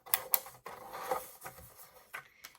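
Cardstock is scored with a scoring tool, giving quiet, close scraping strokes and a few sharp clicks in short uneven bursts.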